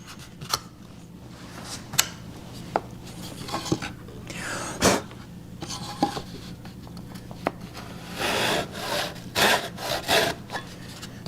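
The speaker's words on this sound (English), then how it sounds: "focus on where the blade is making contact with the wood" Hand saw cutting through wood to form a tenon for a mortise and tenon joint, giving a series of close, rasping strokes with sharp scraping accents, irregular in rhythm with brief pauses between bursts.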